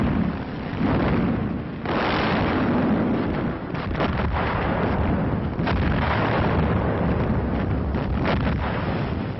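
Archive war footage of a heavy artillery bombardment preparing an assault on Syrian fortifications, a dense continuous rumble of distant blasts and booms on a worn, band-limited recording with no voices.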